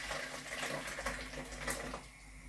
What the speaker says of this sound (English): Let me add some water in it after.